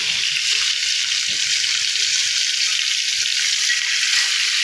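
Two pieces of katla fish frying in hot oil in a kadai, a steady dense sizzle filling the whole stretch without pause, close and fairly loud with no talk over it.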